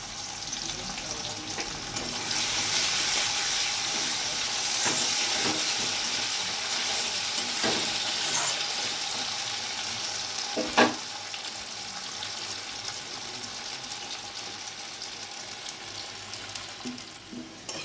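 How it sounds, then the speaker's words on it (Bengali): Potatoes frying in a pan with turmeric and salt while a banana-flower kofta curry is made, a steady close sizzle with occasional stirring scrapes and no voices. "একটু হলুদ আর একটু লবণ দিয়ে আলুটা ভেজে নেব"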